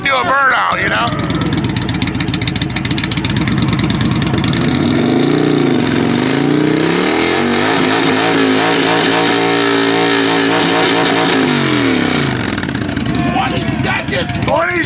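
A Harley FXR motorcycle engine revs for a burnout, a loud, close drone that climbs, holds high for several seconds, then drops back, with voices talking over it.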